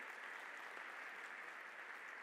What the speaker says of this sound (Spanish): Este aplauso es para Shakira.